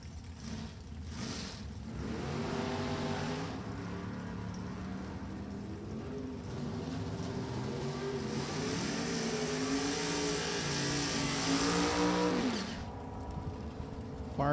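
Drag race run at an NHRA Lucas Oil series event at Virginia Motorsports Park including a 1974 Chevrolet Camaro, cars roaring and revving down the strip with rising engine pitch, loud and sustained throughout.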